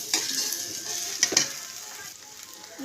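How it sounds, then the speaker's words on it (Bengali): Okra for a Bengali-style prawn and okra dish sizzles loudly in a hot pan as it is stirred, with a steady frying hiss broken by a few sharp scrapes and clicks of the utensil. There is no talking. "এর ভিতরে দিয়ে দেবো ভেন্ডি। ভালো করে একটু নাড়াচাড়া করে নেব।"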